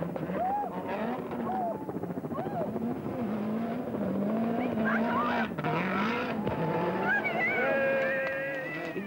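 A Toyota rally car competing on a stage at the 1991 Rally Australia, its engine revving and changing pitch continuously as it drives away, heard fairly close and steady throughout without talk.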